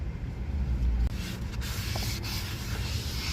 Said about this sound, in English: Brake cleaner.